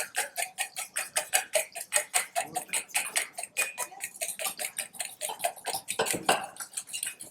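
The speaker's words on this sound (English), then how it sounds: "Whisk it up with a fork." A fork whisks an egg briskly in a large bowl, producing a fast, steady series of bright metallic ticks against the side that runs without pause, close and clear.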